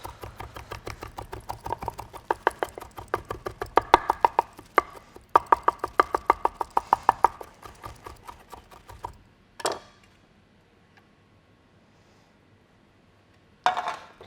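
A knife chops pesto by hand on a board in quick, steady taps for about nine seconds, close and crisp, followed by a single louder knock and a near-silent pause before another brief burst of chopping.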